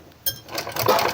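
Sewing machine running briefly while stitching around a rounded edge on a women's shirt, a short rising burst of close mechanical whirring with no talk.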